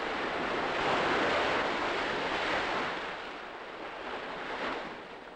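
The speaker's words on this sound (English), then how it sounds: "learned to surf in these breakers in front of his house" Ocean breakers rolling onto the shore in front of a house on a Balinese surf beach, a continuous loud wash of surf with gentle swells and no voices.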